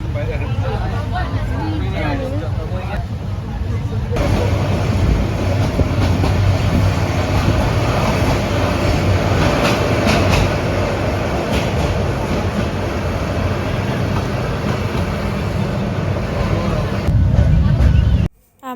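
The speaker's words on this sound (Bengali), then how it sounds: "অবশেষে আমাদের ট্রেন ছেড়ে দিল।" The Cox's Bazar Express pulls away from a station platform and runs on, a loud continuous rail roar with clickety-clack and a distant murmur of people, cutting off abruptly at the end.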